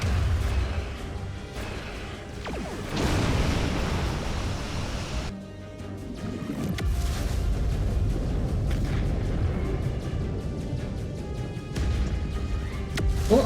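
Heavy explosions from bombs detonating during a space battle in the video game Star Trek Online, loud rumbling blasts and crashes rolling almost continuously, with a brief dip before more booming impacts build again.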